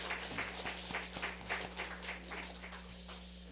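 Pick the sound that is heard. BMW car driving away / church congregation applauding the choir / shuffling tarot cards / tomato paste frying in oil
church congregation applauding the choir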